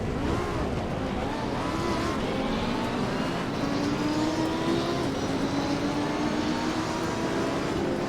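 GT2 race car engines in the Assetto Corsa Competizione racing game, including the Maserati MC20, KTM X-Bow, Mercedes-AMG and Porsche 991 and 935, at the Red Bull Ring, roar as a dense pack with continuous rising revs.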